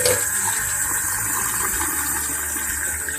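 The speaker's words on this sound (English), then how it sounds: "I'm going to add a little bit of water to this." Water runs steadily into a cup holding a tablespoon of flour, a continuous close trickle with no talking.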